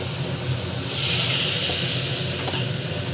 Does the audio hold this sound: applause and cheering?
no